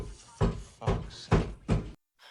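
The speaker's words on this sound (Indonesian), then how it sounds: "Max langsung terbangun saat mendengar suara gedoran pintu di kamarnya" Loud banging on a bedroom door in a horror film about a cult at a nursing home: four heavy, evenly spaced thuds close by, then a brief silence and a faint trailing knock.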